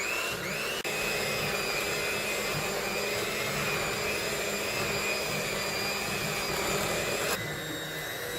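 Electric mixer whirring continuously while mixing rainbow cake batter, a loud, steady motor whine with a rough churning layer, holding unbroken for several seconds with a brief clunk near the start and a shift near the end.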